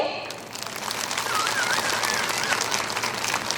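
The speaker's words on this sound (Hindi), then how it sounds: "हम जोरदार ताली बजा देंगे।" An audience at a Catholic women's association annual meeting claps, a steady wash of many hands at moderate loudness, with a faint whistle-like tone drifting briefly through it.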